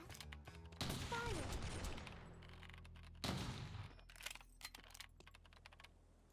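Sniper rifle shots in the video game Eternal Return ring out as two sharp, loud reports a few seconds apart, each trailing off, over rapid clicking of a keyboard during play.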